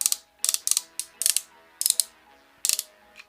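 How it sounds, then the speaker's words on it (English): Ratchet joints on a Blitzway Metal Club MuscleBear Voltron action figure click in short soft bursts of several ticks each, about six clusters spaced irregularly, close and alone with no talk. "Up here again, there's ratchets, but they're pretty soft."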